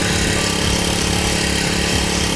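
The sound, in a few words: brush cutter engine running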